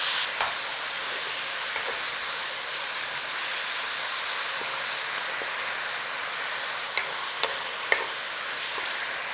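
Chicken sizzles loudly in a hot pan, a steady dense fry hiss with a few faint scrapes and taps from stirring, no talking.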